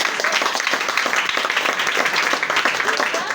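Church congregation applauding and clapping together during a worship service, a dense steady patter of many hands with voices mixed in, sustained and fairly loud throughout.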